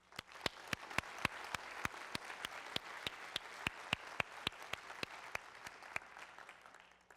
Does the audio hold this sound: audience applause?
yes